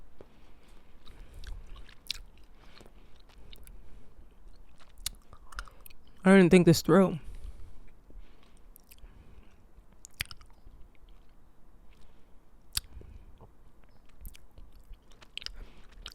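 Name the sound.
chewing a chewy edible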